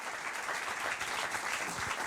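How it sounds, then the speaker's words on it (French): Audience at a colloquium on migration applauds, a dense, even wash of many hands clapping at once, sustained and moderately loud throughout. "On peut l'applaudir."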